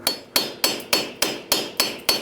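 Eight loud, evenly spaced hammer strikes on a metal hub cap of a 2003-2009 Toyota 4Runner front wheel hub, each clang ringing briefly before the next in a steady rhythm.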